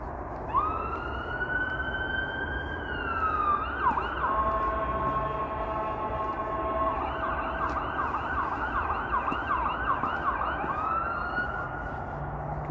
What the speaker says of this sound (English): that ambulance.